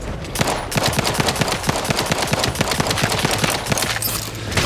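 Rapid pistol gunfire from The Outer Worlds 2, a steady rattle of close, loud shots fired in quick succession throughout, with no talking over it.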